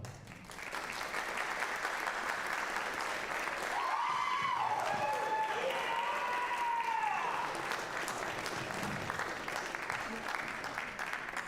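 A crowd applauds steadily throughout at a jazz band concert, clapping at moderate volume, with a voice briefly rising over the clapping in the middle.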